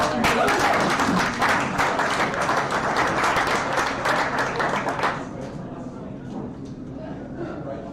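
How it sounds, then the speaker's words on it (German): Audience at an Astronomy on Tap science night in Bonn applauds loudly with dense clapping for about five seconds, then the clapping fades to scattered claps and crowd murmur. "Ein Applaus für"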